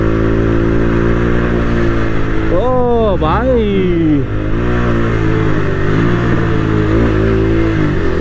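A motorcycle engine drones steadily while riding, then revs sharply upward and falls back in a couple of quick swoops before settling into a loud, continuous hum; a man calls out briefly over it.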